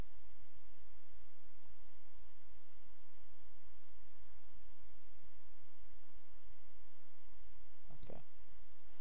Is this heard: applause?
no